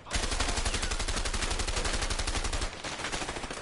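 Automatic weapon fire in a first-person shooter video game, a loud, steady, rapid stream of shots that runs without pause for several seconds, then continues slightly softer and more ragged.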